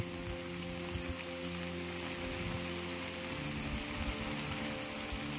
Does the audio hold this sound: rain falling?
yes